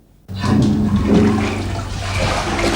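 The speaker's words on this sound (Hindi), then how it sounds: "पप्पू ने लिखा सुबह सुबह टॉयलेट में फ्लश चलाकर मैंने किए कराए पर पानी फेर दिया" A toilet flush starts abruptly after a brief quiet moment, then rushes and gurgles loudly and continuously as the water swirls, filling the remaining seconds on its own.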